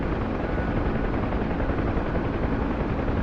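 A helicopter in the DCS flight simulator thrums loud and steady, a dense, continuous rotor-and-engine roar that fills the whole moment with no voices.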